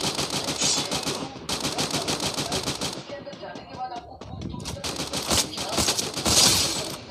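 Rapid automatic gunfire bursts from a shooter video game, loud and dense, pausing briefly mid-way before resuming in heavy volleys.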